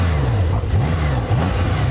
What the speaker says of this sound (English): Have a listen to my engine.